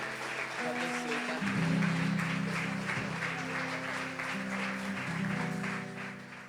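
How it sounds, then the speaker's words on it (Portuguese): Church congregation applauding together at the close of an evening worship service, steady clapping heard over sustained music with a low tonal drone throughout. "Você pode aplaudir ao Senhor."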